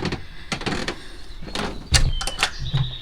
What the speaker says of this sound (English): Unlock that screen door.